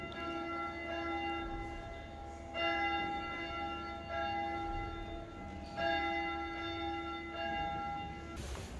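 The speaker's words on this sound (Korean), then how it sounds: "여기도 또 종 울리네." Church bell ringing at the Church of the Assumption of Mary on Lake Bled, Slovenia, a steady resonant peal with rich overtones and repeated strikes swelling every few seconds, heard alone without talk.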